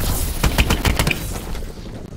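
An EPM3 energy weapon in Call of Duty Advanced Warfare fires a rapid burst of about seven sharp, loud shots in quick rhythm, then falls away to a quieter tail.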